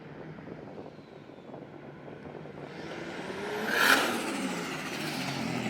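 A 500HP 2JZ-swapped Nissan S14 accelerates hard, its engine roar building from a low rumble to a loud, rising whine that peaks briefly before settling into a sustained drone.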